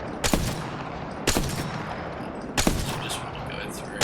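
Single gunshots fired at targets in Apex Legends ring out sharply, three evenly spaced cracks about 1.2 seconds apart over a steady game background hum.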